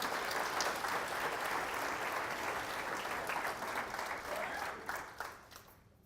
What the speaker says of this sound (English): Can we get a round of applause for them really quickly?